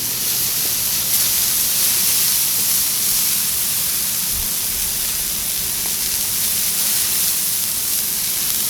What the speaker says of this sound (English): What we're going to do now is we're going to get a little butter on here.